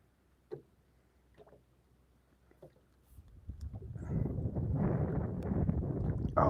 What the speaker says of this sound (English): Oh, that wind feels so good right now.